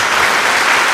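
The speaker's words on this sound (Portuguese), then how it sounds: "Dá uma salva de palmas a Jesus." A church congregation gives a burst of dense, steady applause, loud and close, with many hands clapping at once.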